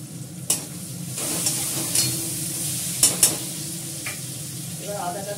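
Vegetables with ginger sizzle in a pan while a spatula stirs them, a steady close fry broken by a few sharp scrapes and knocks against the pan.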